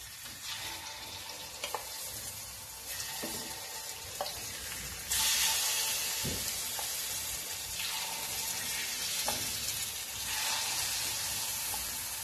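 Batter poured into a hot appe pan for fasting-style appe crackles and sizzles softly, with scattered utensil clicks and a surge of hissing midway, steady and fairly close.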